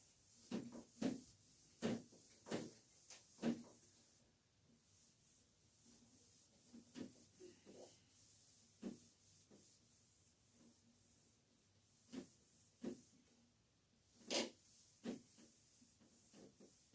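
Writing is rubbed off a board in a classroom, producing a series of quick, scratchy swipes in irregular clusters, with quieter stretches between them and no talking.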